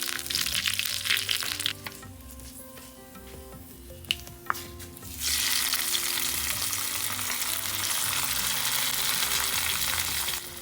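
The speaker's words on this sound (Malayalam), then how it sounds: "ഞാനിതിൽ സ്വല്പം കടുക് താളിച്ച് ചേർക്കുകയാണ്" Half a teaspoon of mustard seeds, three small dried chillies and two sprigs of curry leaves hit a tablespoon of hot coconut oil, with light crackles and pops first, then a sudden loud burst into a steady, hissing sizzle.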